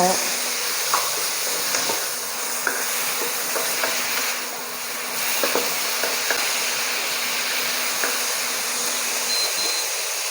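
Minced pork stir-frying in a pan for Thai basil pork, a steady broadband sizzle with scattered scraping and stirring clicks throughout, fairly loud and continuous with no talk over it.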